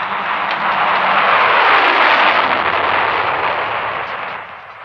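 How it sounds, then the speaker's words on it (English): A Lockheed SR-71 Blackbird reconnaissance aircraft gives off a loud, sustained broadband jet roar that holds steady, then begins to fade in the last second. "the SR-71 is the fastest, highest-flying aircraft in the world"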